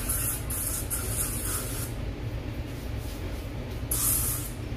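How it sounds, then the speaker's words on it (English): Aerosol insect repellent sprayed outdoors against mosquitoes, heard as close, steady hissing bursts, with a short pause partway through and another spray near the end, all over a low rumbling background. "I gotta spray some of this stuff around me, and because all this stinking mosquitoes."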